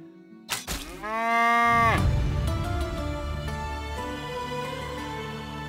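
A cow in the medieval farming game Medieval Dynasty lets out one long, loud, close moo that falls in pitch, followed by a steady low background hum.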